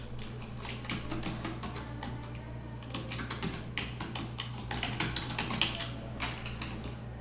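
Typing on a computer keyboard, a close, steady patter of key clicks in quick irregular bursts over a low constant hum.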